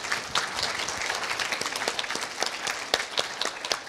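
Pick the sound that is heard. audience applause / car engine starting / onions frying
audience applause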